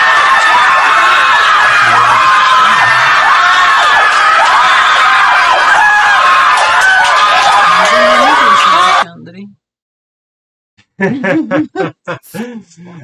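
A dense, loud roar of cheering and screaming crowd noise from the fighting game King of Fighters XV runs for several seconds and then cuts off abruptly. After a brief silence, a voice speaks.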